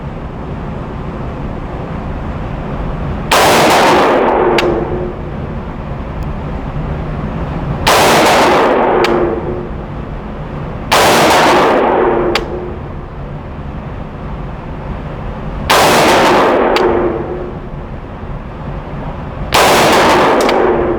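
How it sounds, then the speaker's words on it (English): Five loud AR-15 rifle shots firing Hornady Frontier ammunition at a range, spaced roughly four seconds apart, each a sharp crack with a short echoing tail over steady background noise. "I'm gonna shoot the bottom 2 squares and see where we're at"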